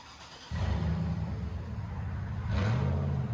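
A deep, throaty straight-piped 6.0 Vortec V8 exhaust on a GMT800 Cadillac Escalade bursts in and revs, rumbling loudly and close, then swells higher toward the end.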